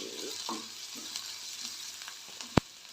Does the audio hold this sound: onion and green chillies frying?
yes